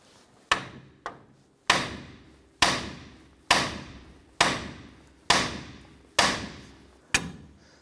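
Hammer blows striking the edge of a steering knuckle on a 1993-1997 Ford Ranger front suspension to pop out the outer tie rod end: eight sharp, loud metallic strikes at a steady rhythm, each ringing briefly before the next.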